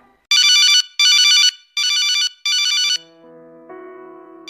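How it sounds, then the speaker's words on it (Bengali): A phone rings loudly in four short electronic bursts at a steady rhythm, then a softer chime-like melody follows. "রূপা ভাবি ফোন দিছে।"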